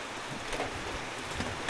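Rain falls steadily at an outdoor cooking spot with no canopy, a dense close patter of drops on surfaces with a few louder hits, and no talk over it.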